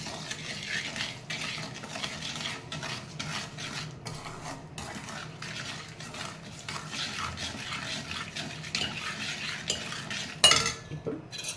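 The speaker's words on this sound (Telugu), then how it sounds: "వేసుకొని బాగా కలిపి పెడదాము." A spoon scrapes and clinks in a bowl as spices are mixed by hand into a drumstick pickle, with repeated close rhythmic scraping and a sharper clatter near the end.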